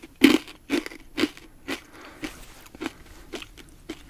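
Crisp bites and chewing of a barbecue-flavored corn snack, a series of sharp crunches close to the mic, strongest at first and then softer and quicker, with no talking.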